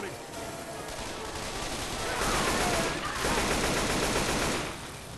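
Gunfire from the Left 4 Dead game, The Passing campaign: dense, continuous rattling of shots that builds louder midway and stays heavy to the end, with a voice talking faintly underneath.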